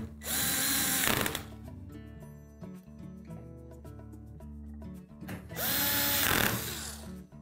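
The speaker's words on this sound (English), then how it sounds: "then we can reinstall the two retaining screws at the back" A power driver whirs loudly in two bursts, separated by a quieter pause, as it reinstalls the retaining screws at the back of a Bosch washer during a cold water inlet valve repair.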